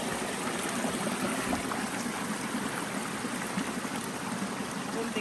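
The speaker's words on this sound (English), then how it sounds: "I don't think it's a waterfalls, it's just a river." A river runs in a steady, even rush of flowing water that fills the whole stretch without a break, close and moderately loud. No voices are heard over it.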